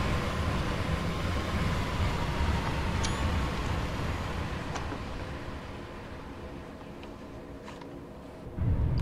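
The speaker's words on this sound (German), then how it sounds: "Und da kommt schon die nächste S-Bahn." A game-simulated S-Bahn train on the Cologne–Aachen line approaches with a steady broadband rumble and hum of rail running, loud at first and gradually easing, with a brief sharper burst at the very end.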